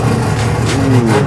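A loud 1000-horsepower 20B rotary engine in a Mazda RX-7 rumbles close by, its pitch climbing as it revs, a deep throaty drone with no break.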